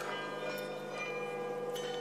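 The Munich town hall glockenspiel on Marienplatz, with its 43 bells, rings in a continuous shimmering peal that sounds somewhat distant amid faint street ambience.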